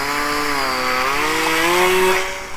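The small XK Edge A430 RC plane's electric motor whines nearby, a steady buzzing drone that bends slightly in pitch as the throttle shifts, with nothing else heard over it.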